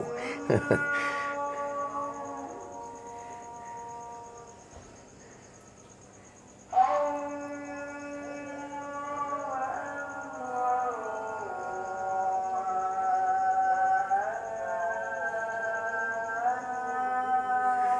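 A long, melodic Islamic call to prayer echoes across a city from a distance, its wavering voice rising and falling over a faint steady hum.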